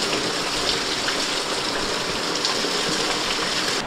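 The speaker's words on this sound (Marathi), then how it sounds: "खालच्या बाजूने पाऊस किती सडकतो बघा." Heavy monsoon rain pours down outside a village house under construction, a dense, constant roaring wash of water that stays loud and steady throughout with no talking.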